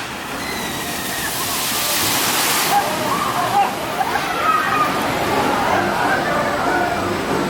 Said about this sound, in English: second time in October that I'm thoroughly soaked from a water ride